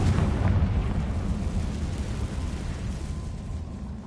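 A Confringo fire-blast spell erupts in Hogwarts Legacy, a loud rumbling blast that roars at the start and slowly fades, alone with no talking.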